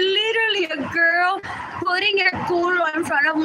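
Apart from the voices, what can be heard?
No distinct noise like a dog, phone or traffic.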